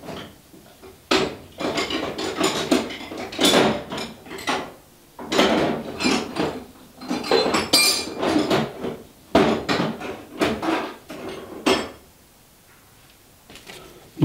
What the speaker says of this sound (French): je vais pousser un peu avec un tournevis